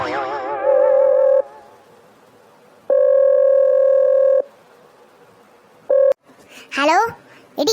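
Telephone keypad dialing tones, sustained steady tones in several long bursts with a brief one near the end, followed by a voice speaking on the line.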